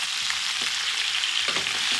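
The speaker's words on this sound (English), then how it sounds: "So this is a 1-pot dish, so I'm going to add the onions here." Onions frying in a pan alongside seared pork ribs for a one-pot Kenyan masala wet fry, giving a steady, close, bright sizzle with a few soft scraping stirs near the middle and end.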